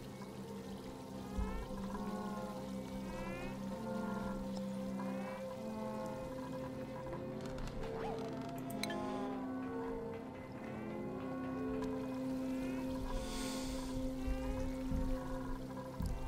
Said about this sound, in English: What's all this water dripping from here?